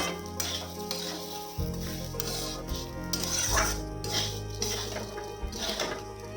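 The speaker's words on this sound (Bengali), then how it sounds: "আমি এইভাবে নেড়ে চেড়ে ভেজে নেব।" Raw rice for pulao sizzles and rasps in a hot pan as a spoon stirs and scrapes it repeatedly, close up, with no talking.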